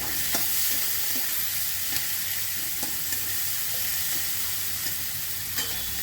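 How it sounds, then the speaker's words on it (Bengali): Chopped onions fry in a pan with turmeric and salt, hissing with a steady, loud, close sizzle while a utensil stirs them, scraping and tapping against the pan every second or so, with no talk. "এবার পেঁয়াজগুলো একটু ভাজা হবে।"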